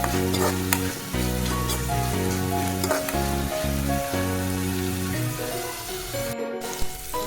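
Onion-tomato puree frying in oil in a pan, heard as a loud, close, continuous sizzle and bubbling with repeated stirring strokes and no talking.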